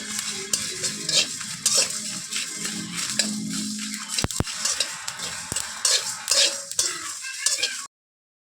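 Spices with fenugreek being fried and stirred in a pan on a low flame for pickle, with steady scraping of a spoon and soft sizzling, plus a few sharp metallic clinks, all close up with no talking.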